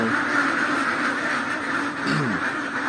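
Flock of young itik ducks quacking continuously in a dense, steady chorus, close and fairly loud, with overlapping calls throughout.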